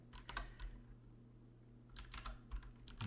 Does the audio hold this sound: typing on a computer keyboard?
yes